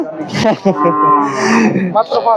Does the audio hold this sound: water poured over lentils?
no